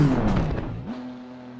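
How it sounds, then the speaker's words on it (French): A race car engine in the sim game Assetto Corsa Competizione revs briefly, its pitch sweeping down and then settling into a steady drone before fading lower. "on va écouter le bruit du moteur"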